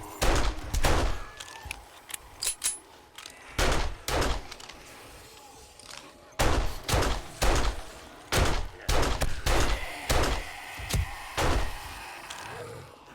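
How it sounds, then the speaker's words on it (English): Pistol fire in the zombie survival game 7 Days to Die, a string of loud, sharp single shots in irregular bursts with short gaps between them, with no talking. "let's play with the pistol for a minute."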